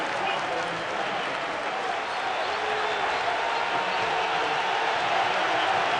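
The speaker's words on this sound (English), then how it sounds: "This crowd is getting into the game." Crowd at a Wisconsin at Iowa college football game roaring steadily in the stadium early in the second half, a wide sustained cheer heard at a distance under a commentator's voice.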